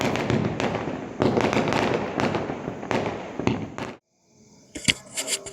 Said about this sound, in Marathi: फटाके वाजतायत